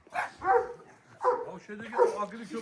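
A dog barks in short bursts, mixed in with people talking close by indoors.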